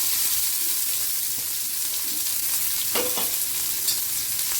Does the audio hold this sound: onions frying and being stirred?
yes